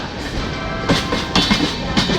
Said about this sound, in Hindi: ये ट्रेन जा रही है सपनों के शहर